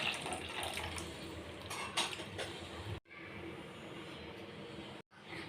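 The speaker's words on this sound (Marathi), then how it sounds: "थोडं पाणी ॲड करायचं." Water is added to paneer masala in a cooking pan, a close, steady splashing pour with two short breaks, loud and alone without voices.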